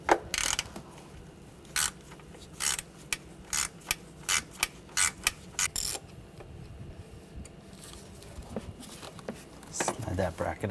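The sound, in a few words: ratchet with T25 socket removing a bracket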